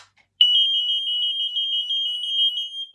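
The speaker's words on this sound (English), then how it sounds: "this is what these two sound like together" Two smoke alarms sound together in a continuous, loud, piercing high-pitched electronic tone with a slight warble, starting abruptly after a brief silence and holding steady to the end.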